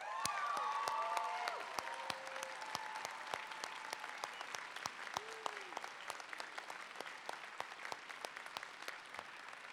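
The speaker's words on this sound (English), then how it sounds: "Give Professor Nicholson a big round of applause." A standing audience at a spring university commencement ceremony claps, loud and dense at first with a few whoops. It thins to scattered, fading claps as a faint voice murmurs underneath.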